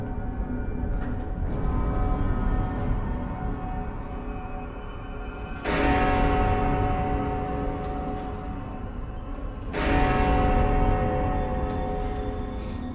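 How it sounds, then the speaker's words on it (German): A large gong in the puzzle video game The Room Three rings out in two strong strikes, each blooming into a long, shimmering metallic resonance that hangs and slowly decays over a low rumbling background. "Der Gong."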